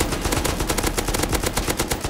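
A gun in the video game Rust fires in a rapid automatic burst, a loud, evenly spaced stream of close shots spraying continuously with no talking.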